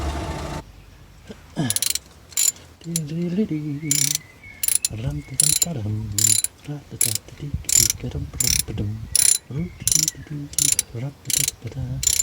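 A hand ratchet loosening the lower gearbox mount bolts on a Ford Fiesta Mk6 TDCi, rapid clicking bursts in a quick irregular rhythm, close and loud, with a few low mechanical clunks between.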